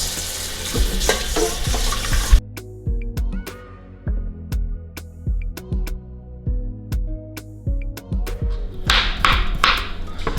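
Beef and broth go into a pressure cooker pot with a burst of sizzling, then a run of rhythmic metal taps and scrapes of a spoon against the pot, ending in more sizzle and clatter.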